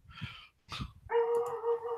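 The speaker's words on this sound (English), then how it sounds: "y'all can hear my dogs going off and being dogs." Dogs barking indoors: two sharp barks close by, followed by a sustained, tonal whining howl that carries to the end.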